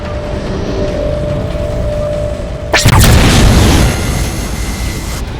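A Covenant attack slams into the Mammoth, a huge armored vehicle in Halo 4. A low steady hum breaks into a sudden, loud, close blast that rumbles on for about a second, then settles into heavy noise.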